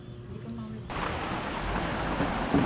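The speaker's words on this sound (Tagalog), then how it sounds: "Ulan." Steady rain hisses and patters, growing louder after a moment, with a low rumble underneath.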